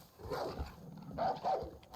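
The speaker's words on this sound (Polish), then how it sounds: "O, piesek." A dog barks in the video game Far Cry 5, a few muffled, mid-distance woofs over a low rumbling game background.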